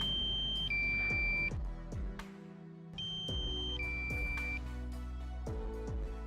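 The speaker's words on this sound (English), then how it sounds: "So the warning beep from the remote control," A drone remote control sounds its low-battery warning: a two-tone electronic beep that plays twice at a steady pace over constant background noise, with no voices.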